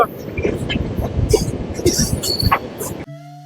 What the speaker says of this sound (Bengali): ওই দেখো ট্রেন তো ঢুকছে